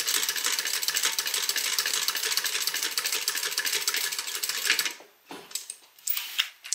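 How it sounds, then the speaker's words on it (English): A sewing machine stitches a beverage bag with a fast, even mechanical whirr for about five seconds, then stops, leaving soft handling sounds. "I'm just stitching up to my other line here."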